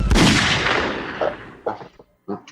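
Gunshot sound effects dropped in as a comic cue: one loud blast with a long, fading tail, followed by several short sharp shots spaced irregularly, alone without talk.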